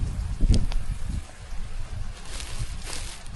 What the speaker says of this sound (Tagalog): makalipat na rin tayo doon kasi mahangin na dito